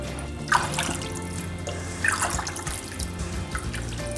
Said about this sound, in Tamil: இதில் தேவையான அளவு தண்ணி சேர்த்துக்கலாம்.